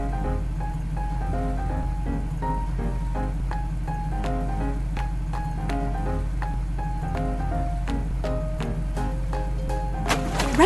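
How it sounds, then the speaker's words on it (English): Rain sound effect within a children's alphabet learning game, a steady patter of falling drops heard alone at an even level, with scattered tinkling tones over it. "Rain."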